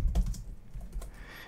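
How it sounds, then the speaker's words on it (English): Quick bursts of typing on a computer keyboard while entering data into a spreadsheet, close clicky keystrokes in an uneven rhythm, louder at first and then lighter, with no speech. "So if I start typing"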